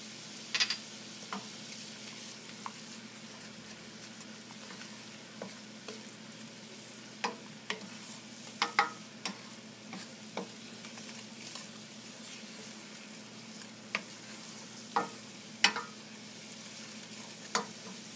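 Pepper flakes sizzle in a pan for shrimp scampi, giving a steady low frying hiss broken by scattered sharp crackles and pops spread across the whole stretch.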